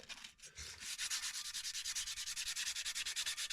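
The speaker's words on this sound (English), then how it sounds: "I got a wire wheel. Yeah, see, it comes off." A wire wheel scrubs rust off the brake of a Mercedes W124 that has sat unused, giving a loud, steady abrasive rasp that pulses rapidly and evenly throughout, with no talking.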